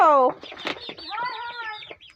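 Chickens cluck in short, clipped bursts close by, mixed with harmonic calls and a voice speaking over them.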